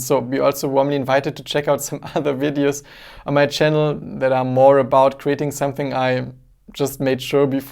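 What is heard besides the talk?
No everyday noise stands out behind the speech.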